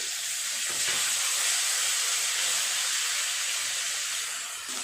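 Ginger sizzling in hot oil with turmeric, a steady hissing fry heard up close, even and continuous with faint crackles and no voices.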